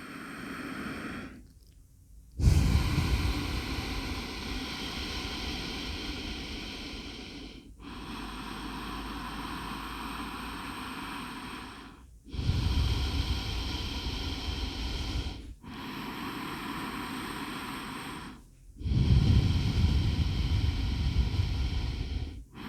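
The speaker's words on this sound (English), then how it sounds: "we're going to breathe in for 4, we're going to hold for just a second, and then we're going to breathe out for 4" Slow, deep ocean breathing through the nose with the mouth closed: four long, loud, rushing breaths with raspy throat texture, separated by short silent pauses, close up and with no talking.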